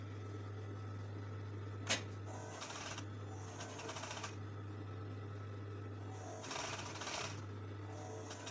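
A sewing machine stitches a dart in fabric in short runs of quiet, rapid whirring over a steady low hum, pausing between bursts, with a single sharp click partway through.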